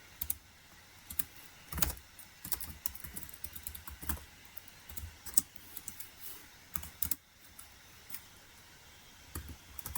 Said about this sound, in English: I keep clicking the wrong thing.